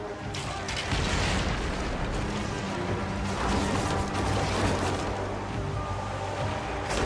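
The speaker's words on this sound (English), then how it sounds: "Our catapults will fire upon your order." Catapults on warships fire during a naval battle in Assassin's Creed Origins, a dense continuous roar of booms, crashes and impacts that rises and falls over several seconds with no clear gaps.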